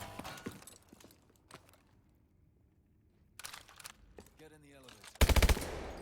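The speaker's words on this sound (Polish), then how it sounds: "to serią strzela" A short, loud burst of weapon fire in the video game Call of Duty: Advanced Warfare, arriving abruptly near the end after quieter clicks and handling noises.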